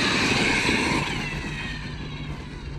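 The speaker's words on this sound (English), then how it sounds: "I like to hear that Mod 1 clatter with the gears" Mod 1 gears on a Redcat Rampage R5 RC truck whirring and clattering with a loud, close, steady drone that eases slightly in volume toward the end.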